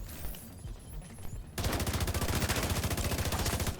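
Automatic rifle fire in The Division 2, a steady, rapid stream of loud shots that suddenly kicks in midway after quieter scattered gunfire and keeps going to the end.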